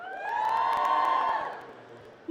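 A convention crowd at MCM Birmingham cheers and whoops together in a big hall, swelling loudly for about a second before fading.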